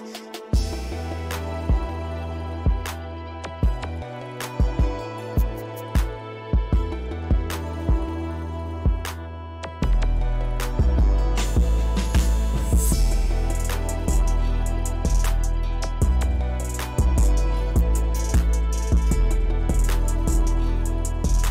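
Hip-hop beat: a melodic loop plays alone at first, then heavy bass and drums enter around the middle and drive on with steady rhythmic hits, loud and close without vocals.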